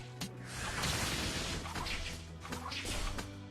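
Objects smashing and breaking in the Genshin Impact video game, a dense, sustained crashing clatter with several sharp impacts over a few seconds, loud and close with no talking.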